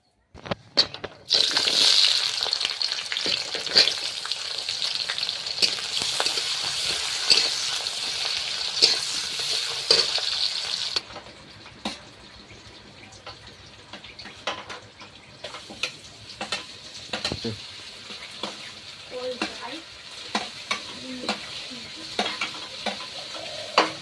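Loud, steady sizzling of food frying in hot oil, with occasional stirring scrapes; the hiss softens partway through and continues with clinks.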